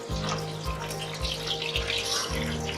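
Hot melted shortening crackles and pops in a cast iron pan heated for frying okra, a close, steady sizzle with a low rhythmic pulsing underneath.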